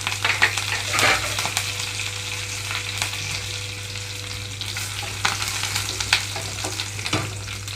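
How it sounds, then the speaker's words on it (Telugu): Mustard seeds, cumin, crushed garlic and curry leaves sizzling in hot oil for tomato rasam, a steady close frying crackle with scattered pops and stirring scrapes, no voices. "ఇక్కడ ఆయిల్ అంతా కాగిన వెంటనే ఆవాలు అలాగే జీలకర్ర వేస్తున్నాను ఇవి కొంచెం అనేటప్పుడే కొద్దిగా నలకొట్టిన వెల్లుల్లి రెమ్మలు అలాగే కొంచెం కరివేపాకు"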